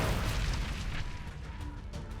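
Incendiary grenade blast in the video game XCOM 2, the kind a Purifier enemy throws: a loud, heavy rumbling boom that holds steady for about two seconds with no voices.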